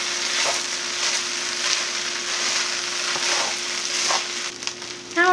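Spiced kedgeree rice being stirred in a hot pan, a steady dense sizzle with soft scraping strokes of a utensil throughout, close and continuous with no talking.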